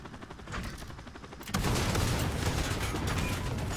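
Rapid gunfire in a multiplayer shooter video game, with sustained bursts that become louder and denser partway through, dense crackling shots and no talking.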